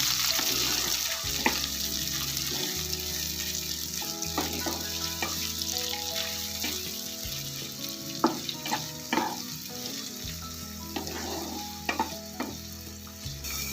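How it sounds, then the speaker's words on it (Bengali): Chopped onions sizzle and fry in hot oil for shrimp dopiaza, with steady crackling and occasional scraping and stirring sounds, close and continuous. "দু মিনিট মতো আমি ভাজা করবো"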